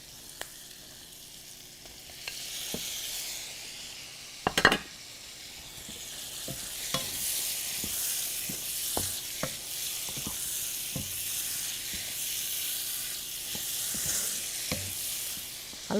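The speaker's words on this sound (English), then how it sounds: "Now I'll put the shrimp in it." Shrimp frying in a pan with tomato, a continuous sizzle and crackle punctuated by sharp utensil taps and scrapes against the pan, near and alone.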